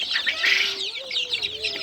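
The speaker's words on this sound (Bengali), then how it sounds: "মুরগি সুস্থ আছে কিনা এবার যে একটা সাউন্ড করলে বুঝতে পারবেন" Farm chickens cluck steadily and close by, with repeated overlapping calls and a low drawn-out note running through the whole stretch, and no talking.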